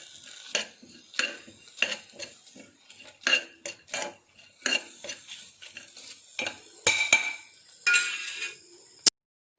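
Metal utensil scraping and clinking against a pan while an onion mixture is stirred to a soft paste over a medium flame, a steady run of separate strokes at close range with no talk.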